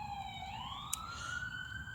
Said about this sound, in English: And then there's sirens.